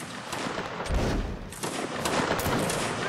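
Musket line firing in a video game line battle, with a dense crackle of overlapping shots building into a rolling volley, loud and continuous for a few seconds without talk.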